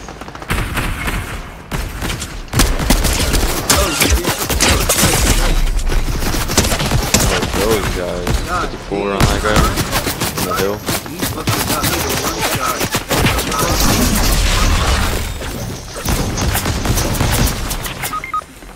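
Gunfire in a battle royale game erupts as loud, rapid bursts of automatic shots, many rounds close together in sustained volleys with brief pauses.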